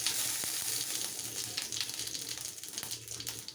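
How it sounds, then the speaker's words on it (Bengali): Cumin seeds and ground spices fry in hot oil for chana masala, giving a soft, steady sizzle with faint crackles and stirring, fairly quiet and close. "আমি একটু জিরে ফোড়ন দিয়েছি আর গুঁড়ো মশলা অ্যাড করছি।"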